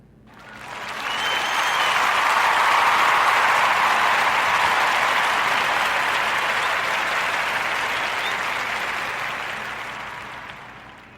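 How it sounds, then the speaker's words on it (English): Warm audience applause for a guest on a live podcast swells in quickly, holds as a dense, even wash of clapping, then tapers gradually. "Let's give a warm Narrative Podcast round of applause for our young brother, Armani Williams."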